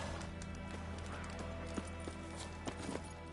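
A horse galloping in The Witcher 3: Wild Hunt, with rhythmic hoof clip-clops over a dense, loud bed of game ambience and music, the hits repeating steadily for a few seconds.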